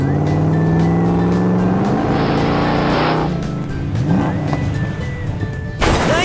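An orange toy truck engine drones steadily as it drives toward a stack of number blocks, then a sudden sharp crash near the end as it smashes through them.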